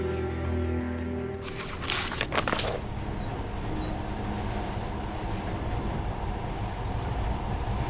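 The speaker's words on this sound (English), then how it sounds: "In the past, trains were ordinary things, but now, this monorail seems magic, doesn't it?" A monorail train in the video game Metro Last Light Redux rumbles along with a steady low mechanical drone, preceded by a brief bright hiss and clatter in the first few seconds, then a continuous rolling hum.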